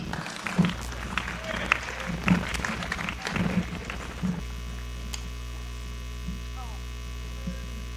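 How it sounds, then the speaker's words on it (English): Crowd applause for a men's college basketball team rings through a gym in scattered claps for a few seconds, then stops, leaving a steady electrical hum. "another round of applause for your 2020"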